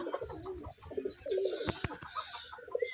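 Punjabi Girabaz pigeons coo in a close, repeated series of throaty, bubbling calls, several birds overlapping, with a couple of sharp knocks near the middle and no speech.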